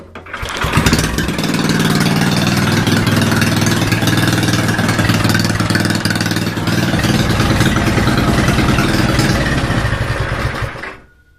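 Go kart engine starts up and runs at a loud, steady, close throttle for about ten seconds, then cuts out abruptly when the steering-wheel kill switch is hit, leaving near silence.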